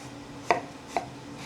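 A knife slices through food on a cutting board for an easy skillet dinner, giving two short, crisp chops about half a second apart. Both are close and fairly soft, with no talk.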